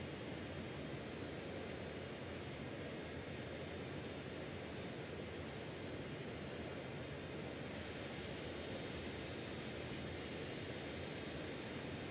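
Dornier Do 31 jet VTOL transport cruising in Microsoft Flight Simulator 2020, a steady, dense engine roar that fills the whole stretch without pause or voices.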